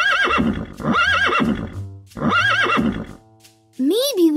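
A cartoon horse in a children's game whinnies loudly twice in quick succession, with a rhythmic clip-clop of hooves beneath, followed by a rising bright toy-like tone at the end.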